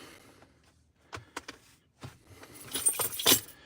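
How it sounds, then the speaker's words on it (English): Keys jangle in a few quick metallic bursts as they are yanked out, close and fairly loud, with brighter rattling toward the end. "I couldn't get my keys out quick enough."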